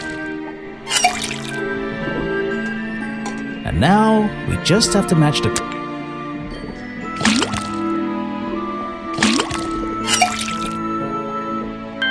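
Water dripping from a faucet in the Detective Grimoire point-and-click adventure game, a few distinct plinking drips spaced apart over a sustained musical backdrop, with someone talking between them.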